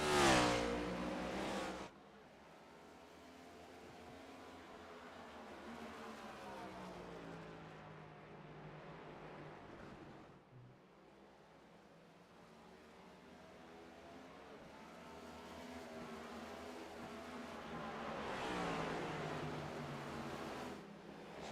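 Stock cars race around the Richmond short track in a racing game, their engines a faint droning hum that swells and fades as the pack laps past.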